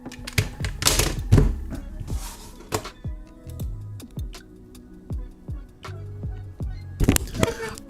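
Typing on a computer keyboard, sharp irregular key clicks and clacks in uneven bursts and pauses, close to the microphone, with a few louder thumps and faint background hum.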